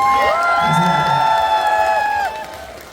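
A festival crowd at an outdoor summer lotus festival concert in Buyeo roars with cheers and whoops for a singer, a loud sustained wall of shouting that eases slightly near the end.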